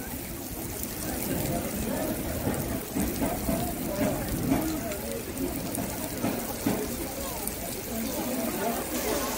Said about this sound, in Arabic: شوف المطر كيف يسير